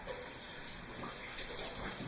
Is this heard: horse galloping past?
no